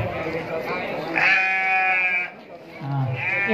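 A white Saanen crossbreed dairy goat bleats in long, wavering calls, one after another, close to the microphone, while people talk in the background.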